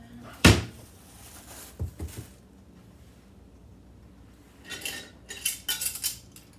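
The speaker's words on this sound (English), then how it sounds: "then 1 teaspoon of baking soda" A teaspoon measures out baking soda for muffin batter, producing a sharp metallic clink at the start, a couple of light taps, then a cluster of clinks and clatter against bowls and containers near the end, no talking.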